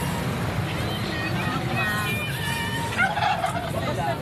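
Native chickens call out repeatedly in short warbling bursts over a busy background of market chatter and traffic noise at a market day in Toril.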